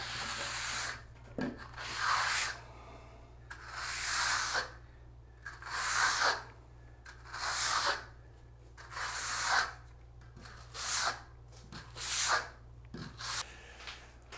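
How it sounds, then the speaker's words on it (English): A flat trowel is drawn across a freshly packed shower pan to compact and smooth it. It makes about eight rhythmic, gritty scraping strokes, each lasting roughly a second, close to the microphone against quiet background hum. "I'm going to take my flat trowel and compact down the surface to make it smooth"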